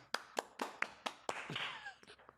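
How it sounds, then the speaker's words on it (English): A small group's round of applause at a casual drinking podcast: a handful of sharp, evenly spaced claps up close, then a brief burst of mixed clapping that quickly fades, fairly quiet. "Another round of applause."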